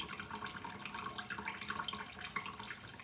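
Oily water from cooking meatloaf drains out of a baking pan, giving a steady close pour with light splashing and trickling, alone without talk.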